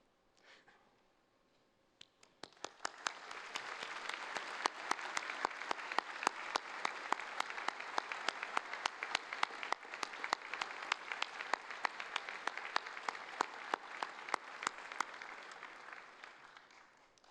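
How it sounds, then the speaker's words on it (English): Graduates at a university science faculty graduation ceremony break into a long, full round of applause. Dense clapping swells in after a couple of seconds, holds steady with sharp individual claps standing out, and tapers off at the end. "give a round of applause to all of those who have helped us get through this long journey."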